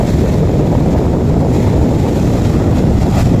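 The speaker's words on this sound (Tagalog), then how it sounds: "tubig at saka malakas yung alon" Strong waves surge at Manila Bay's Dolomite Beach during high water, a continuous loud wash of surf roaring under heavy wind buffeting on the microphone, with no voices.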